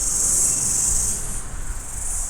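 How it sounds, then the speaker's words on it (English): A loud, continuous high-pitched chirring of cicadas, steady and unbroken, with a faint low background rumble. "As the cicadas go off again."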